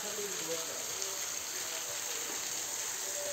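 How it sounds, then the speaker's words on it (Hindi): The waterfall at the Mahadev Dham cave temple in Rampuri Tola, Chhindwara, gives a steady, even rushing wash of falling water that carries on without a break at a moderate distance. "झरना वगैरह भी है, देख सकते हैं आप लोग"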